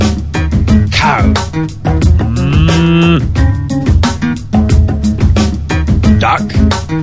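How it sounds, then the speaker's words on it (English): A cartoonish cow moos in the Pumkinland video game, a drawn-out tonal low over steady game music, loud and close, the call rising and bending in the middle of the stretch. "Cow."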